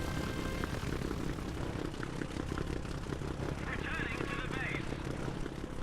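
A propeller aircraft engine drones steadily in a flight simulator, a continuous loud hum with a throbbing low rumble throughout, while a voice talks over it.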